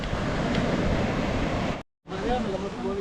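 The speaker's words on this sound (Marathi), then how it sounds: "कसल्या सुंदर अशा लाटा येतात आणि हवा येतात" Sea waves washing onto Cola Beach in Goa, a steady broad rush of surf with wind across the microphone. It breaks off briefly, then returns with a person talking over it.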